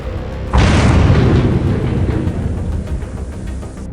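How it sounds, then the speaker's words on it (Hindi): A sudden loud blast of a grenade explosion at night in Amritsar bursts in, then a heavy rumbling roar slowly fades and lingers, with no voices. "होली के त्योहार पर दहशत का ये धमाका अमृतसर में बीती रात करीब 12:40 पर हुआ।"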